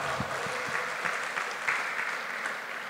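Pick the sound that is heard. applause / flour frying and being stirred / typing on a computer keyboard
applause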